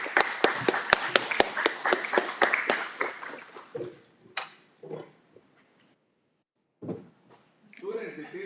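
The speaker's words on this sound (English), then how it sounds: "Let's give her a round of applause, Ms. Enriquez Benson." Audience applause at a school district board meeting as a primary campus principal is welcomed: a run of sharp, fairly sparse claps for about three seconds that thins out into scattered sounds and brief pauses.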